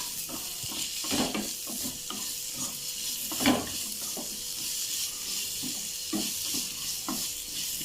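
Onions sautéing with salt in a pan, a gentle steady sizzle under frequent scraping stirs and occasional utensil knocks, close up with no talking.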